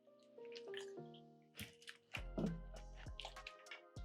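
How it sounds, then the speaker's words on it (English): Honey soy marinade poured over raw chicken in a baking dish, with wet drips and splashes, a thick glugging stream and squishy liquid sounds heard up close in a quiet kitchen. "Pour the marinade over this chicken."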